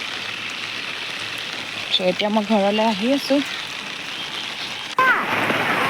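Rain falls steadily as a continuous broadband hiss through the whole stretch, while a person talks over it partway through and a brief louder gust of rain noise comes near the end.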